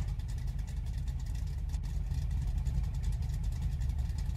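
Car exhaust revving in the My Garage video game, a steady loud low engine drone with slight rises in pitch, continuous and close, no talk over it.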